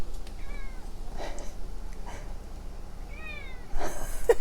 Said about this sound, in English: What's the matter, baby kitty?